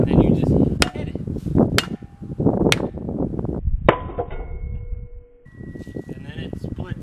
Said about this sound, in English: you just take your hammer and then you just hit it